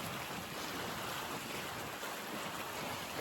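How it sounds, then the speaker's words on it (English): A sailboat runs in a fresh breeze, giving a constant broadband rush of wind and water, steady and fairly faint, with no speech. "It's a fresh breeze, so there's plenty of oomph in the sails."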